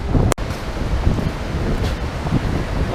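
Wind and ocean waves at a tropical beach, a loud continuous rumbling wash with gusty buffeting on the microphone and a brief sharp knock near the start, no voices.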